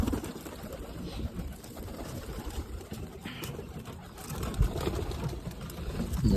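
Pigeons coo softly amid a dense, noisy background rumble, the calls blending into steady ambient clatter without any talking.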